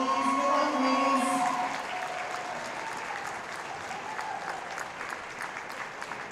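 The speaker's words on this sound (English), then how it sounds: "Can we give them another round of applause, please?" A crowd at a varsity high school volleyball match applauds the senior players with continuous clapping that sits under a brief tonal announcement at the start, then holds steady at moderate level.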